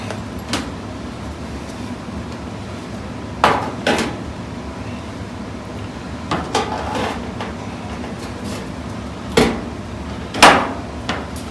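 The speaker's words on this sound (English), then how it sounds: "I'm using a set of right-hand snips. That way the metal curls up on the right-hand side." Right-hand tin snips cutting into a sheet metal quarter panel on a Dodge Challenger, a scattering of sharp metallic snips and clanks at irregular intervals over a low background hum.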